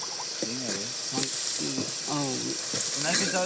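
Food with turmeric stirred in a hot pan: continuous sizzling and frying with stirring scrapes, while a voice sounds briefly over it.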